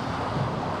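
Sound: strong wind on a sailboat running downwind

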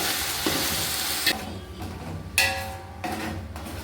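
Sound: ginger garlic paste sautéing in a pan

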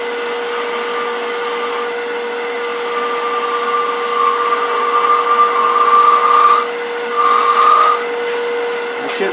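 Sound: 3/8 inch spindle gouge turning a burl wood box on lathe

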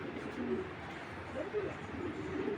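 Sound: racer pigeons cooing at a pigeon farm

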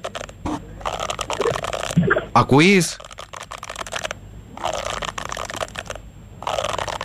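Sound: rain stick being played

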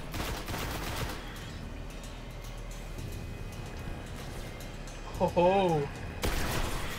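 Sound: gunfire in the video game Destiny

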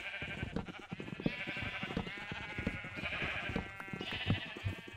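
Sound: sheep bleating in the Minecraft video game

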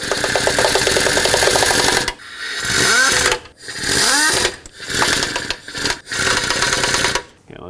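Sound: air impact gun snugging timing cover bolts on Ford F-150

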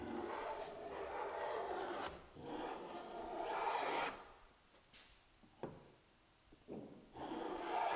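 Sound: hand plane strokes on walnut wood

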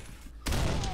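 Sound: gunshots in Condemned: Criminal Origins video game

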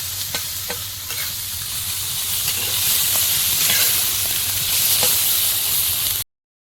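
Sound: frying small fish with chopped onion and chili

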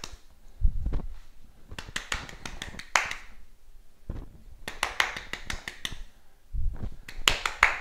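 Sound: hands clapping during a tennis ball catching drill

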